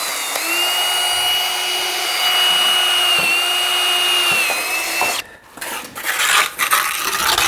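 A power drill drives screws into a window frame during orangery window installation, whining loud and steady for about five seconds before stopping, followed by brief handling knocks.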